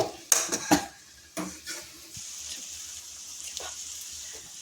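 A metal utensil presses and stirs cooked gongura (sorrel) leaves in a pan for curry. A few sharp clanks and scrapes against the pan come first, then a softer low sizzle runs underneath.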